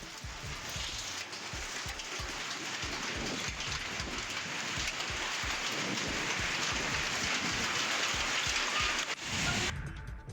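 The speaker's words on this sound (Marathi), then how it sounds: "अकोला अकोट तालुक्याला पुन्हा अवकाळी पावसाचा फटका बसलाय" Steady, dense unseasonal rain pours down in Akola's Akot taluka, a loud continuous hiss of drops on surfaces that persists throughout without speech and cuts off abruptly near the end.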